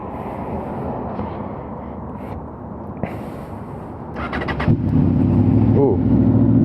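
A Honda VFR800 motorcycle engine cranks and fires up partway through, then settles into a steady, close, rumbling idle with a slight rev, while someone talks quietly beforehand.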